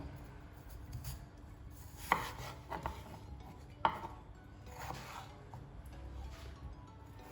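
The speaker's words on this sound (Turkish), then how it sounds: "Çok minik küpler olmayacak şekilde doğruyorum." A knife chops unpeeled potatoes into large cubes on a cutting board, giving a few irregular close knocks, two sharper than the rest, over a quiet kitchen background.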